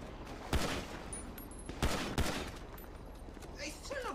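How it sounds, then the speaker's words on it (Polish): Gunfire in a video game: a few sharp, isolated shots ring out over a busy, noisy background, with faint voices in the mix. "strzela do mnie"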